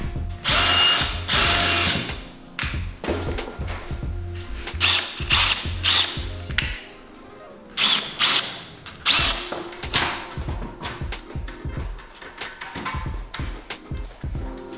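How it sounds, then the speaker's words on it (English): A power drill drives screws to mount a 4ft LED shop light in a garage, with repeated close, loud bursts of whirring and ratcheting. Short pauses separate the runs, and no voices are heard. "now we're just gonna drill it in"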